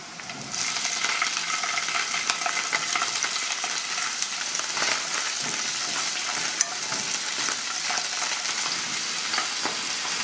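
Ginger pieces and mushrooms fry in a hot pan with a strong, steady sizzle and dense crackle, plus occasional stirring scrapes and small clinks.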